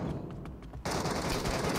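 Automatic gunfire in the mobile battle-royale game PUBG Mobile: a brief quieter stretch gives way to a sudden loud, sustained burst of rapid shots.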